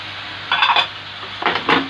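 Onion, bell pepper and hot pepper stirred in a pan for Alexandrian-style liver, two brief bursts of scraping and clattering from a utensil against the pan over a quiet background.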